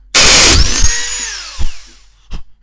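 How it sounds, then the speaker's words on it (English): A valve seat grinder whines loudly as it grinds a valve seat on a Case 311 tractor, with one sustained high-pitched spin that winds down, followed by two brief thuds. "So you can see it's grinding on this side of the seat, but not so much the other side."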